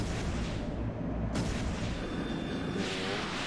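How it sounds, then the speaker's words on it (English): An airship's main cannon firing in the video game Trails in the Sky SC, deep booming blasts layered over a rumbling battle, with sharp bursts landing about a second and a half apart. "Firing main cannon."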